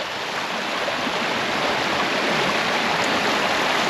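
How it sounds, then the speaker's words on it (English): A rain-swollen moorland stream in the Peak District rushes steadily and loudly nearby, a continuous broadband roar of churning water with no pauses and no voices. "all the water courses and rivulets totally buzzing,"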